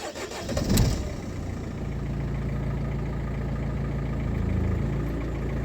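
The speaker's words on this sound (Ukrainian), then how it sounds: "пробуємо заводимо машину" A Mercedes Vito 639 van engine cranks briefly and starts, then settles into a steady idle with a low rumble that continues to the end.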